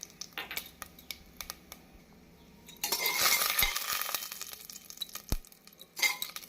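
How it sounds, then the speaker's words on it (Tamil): Cashews, saffron and fennel seeds fry in a pan with cinnamon and cardamom for tomato rice. Soft crackling swells into a fuller sizzle midway, broken by faint clicks and scrapes of a spoon, with no talk. "சோம்பு பொரிந்ததும் நாம் முந்திரி பருப்பு, குங்குமப்பூவை போட வேண்டும்."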